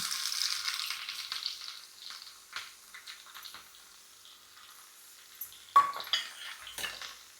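Onions fry in oil in a pan, giving a soft steady sizzle with light clinks and scrapes of utensils against the pan, heard close with no talking.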